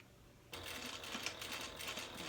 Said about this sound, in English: I'm just going to sew across.